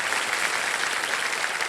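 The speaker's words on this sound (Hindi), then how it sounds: "इनका जोरदार तालियों के साथ हम अभिनंदन करना चाह रहे हैं।" Studio audience applauding on the set of Kaun Banega Crorepati, a dense, steady wash of clapping that stays loud and even throughout with no speech over it.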